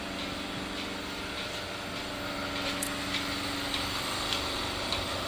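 A cow milking machine runs inside a cattle shed, giving off a steady, continuous mechanical hum with faint rhythmic pulsing and occasional small clicks, moderately loud and close, with no voices.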